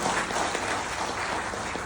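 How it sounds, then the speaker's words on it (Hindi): An audience at a company business-plan presentation breaks into steady applause, a dense wash of many hands clapping together at moderate distance with no pause. "मैं चाहूंगा इस पहले लेवल के लिए, इस पहले कदम के लिए एक बार जोरदार तालियां होंगी।"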